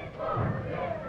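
Wrestling show crowd roaring and cheering in a steady broad swell, loud and continuous with a rise partway through, no distinct voices standing out.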